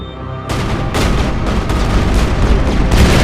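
Dense gunfire from a firefight in the video game Mass Effect, heavy overlapping shots and booms starting abruptly after a short lead-in and continuing loud and unbroken to the end.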